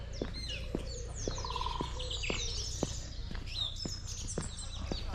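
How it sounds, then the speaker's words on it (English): Birds sing and chirp repeatedly with bright, varied phrases, fairly close, over a low steady background hum and occasional faint knocks. "that bird song, I don't know, well, you probably can hear it, it's quite loud"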